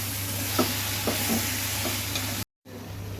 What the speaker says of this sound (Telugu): మనం మ్యారినేట్ చేసి పెట్టుకున్నాం కదా చికెన్, అది వేసుకుందాం ఇప్పుడు